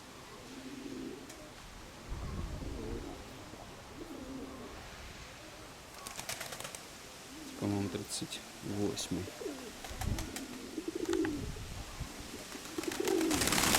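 Pigeons coo in low, repeated bursts close by, among them a young blue pigeon with a band on its right leg, while someone talks over them and wings or small noises flutter now and then.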